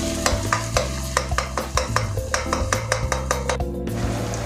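Kashmiri chili sautés in a pan for chilli chicken gravy, a steady sizzle broken by a quick rhythm of spoon strokes scraping and clinking against the metal.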